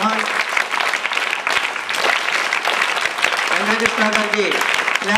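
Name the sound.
audience clapping loudly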